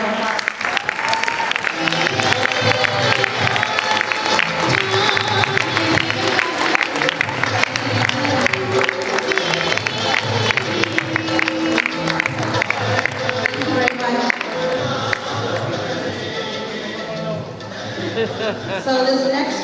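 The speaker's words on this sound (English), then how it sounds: "We'd like to give you a round of applause." Sustained applause from a large audience at a closing ceremony, loud and continuous with cheering and crowd chatter mixed in, fading slightly toward the end.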